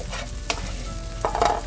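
Okra frying uncovered in a pan to dry out its slime, a steady close sizzle with a couple of sharp stirring scrapes, no voices.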